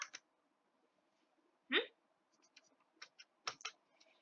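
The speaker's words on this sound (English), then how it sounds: "Oh yeah, he's definitely having hiccups." A cartoon cat hiccuping in a video game: one sharp hiccup stands out in the middle, with fainter clicks and chirps before and after and no talk over it.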